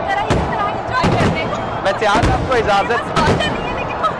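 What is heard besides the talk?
fireworks during Independence Day celebrations at Minar-e-Pakistan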